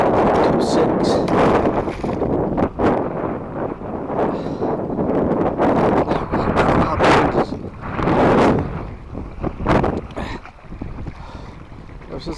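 Wind gusts buffet across a lake on a fishing boat at New Melones, a loud, rushing roar that surges and eases in waves, with someone talking intermittently underneath.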